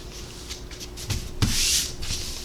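Pressed quilting fabric being folded by hand, soft rubbing and swishing of cloth in a few short brushes, with one louder rustle near the middle, close up and without talk.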